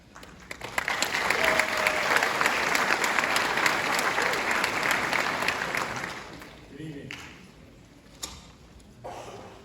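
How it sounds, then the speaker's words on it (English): Audience applause at a high school class of 2024 graduation ceremony: a loud, dense wash of clapping from a large crowd that sustains for about six seconds, then thins and fades out with scattered claps. "Let's have another round of applause for the class."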